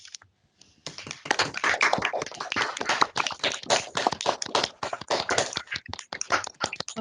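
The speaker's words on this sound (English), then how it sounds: "before I hand to Richard, if we can just switch our mics on and just really give everybody a round of applause, and a thank you for speaking today." Applause at the end of an online meeting: a dense patter of clapping from many people through microphones, starting abruptly after a short silence and continuing steadily with uneven bursts.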